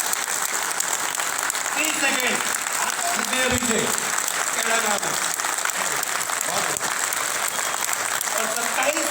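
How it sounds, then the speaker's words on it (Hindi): A crowd at a public rally in Mawana claps continuously, dense and loud, while someone speaks over the applause through amplification. "लगातार 30 सेकेंड भाई साहब के लिए ताली बजाओ"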